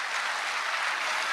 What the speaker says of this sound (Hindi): ये वाली ताली पहले बजा देते तो इतना खून खराबा नहीं करना पड़ता ना यार।